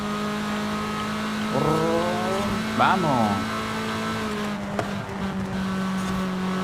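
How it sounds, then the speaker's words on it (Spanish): Engine revs climbing sharply on a downshift in a race car driven in Forza Horizon 5, two quick rising sweeps over a steady drone with a brief spoken word. "Cuando bajas una marcha, se suben las revoluciones y suena fenomenal al límite."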